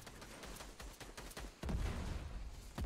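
Rapid gunfire in the Fortnite video game, a dense burst of shots at moderate level that grows heavier and louder in the second half, with no talk.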